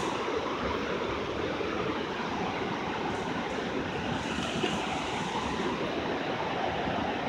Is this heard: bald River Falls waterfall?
yes